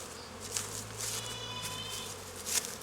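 Honeybees buzz around a hive at an apiary while it is being opened, a steady low hum with fainter wingbeat whines rising and falling, near and continuous, with no talk.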